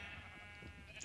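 Sheep bleating in Minecraft, a single short tonal bleat close up and alone, with no talk over it.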